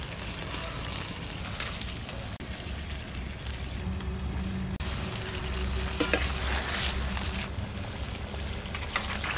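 Pieces of katla fish go into a hot pan of yogurt-based doi katla in a village kitchen, frying with a loud, continuous sizzle and crackle, with occasional stirring scrapes and no talk.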